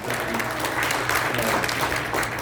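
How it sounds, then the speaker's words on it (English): An audience at a community organization event gives a steady round of applause, dense overlapping claps filling the moment at moderate volume with no speech over them. "So let's give her a round of applause."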